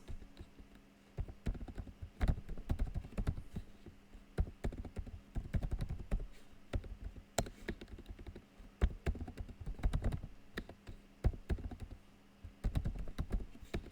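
Names being typed on a computer keyboard, a close run of irregular key clicks and taps in quick bursts with short pauses, no talking.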